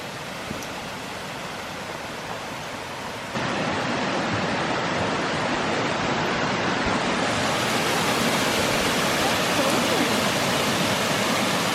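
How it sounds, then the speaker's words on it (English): A forest waterfall in Northumberland roars as a steady broadband rush of falling water, close and loud, growing noticeably stronger partway through as the sound nears the cascade. "It's like a bonus waterfall."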